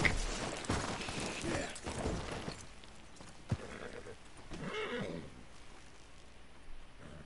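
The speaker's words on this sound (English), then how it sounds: "Gotta calm the horse down after stuff like that." Game audio from a horse-riding video game, with loud hoof clatter and a neigh-like burst in the first few seconds, then a quieter stretch broken by a sharp thump and a second whinnying rise near the five-second mark.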